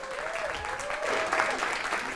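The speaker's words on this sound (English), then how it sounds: "One more round of applause for Greta." A crowd applauds at the Sky Broadband Women's Esports Final, a steady broadband clatter of hands with a voice or cheer riding over it, moderately loud throughout the short burst.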